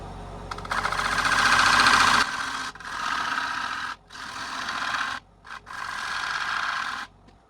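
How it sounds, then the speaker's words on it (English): A small pointed gouge cutting into a spinning wooden bowl on a lathe to thin its wall, producing loud, close rasping whines in four passes of about one to two seconds, separated by brief pauses. "I'm going to go ahead and use the little pointy gouge now to thin the wall just down probably an inch to where I want it to be"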